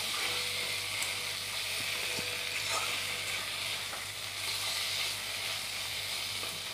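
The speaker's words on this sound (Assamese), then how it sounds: "অলপমান ভাজিম" Chicken with masala fries steadily in a pan, a continuous dense sizzle and hiss at moderate level with occasional soft spatters and faint scraping, no voices.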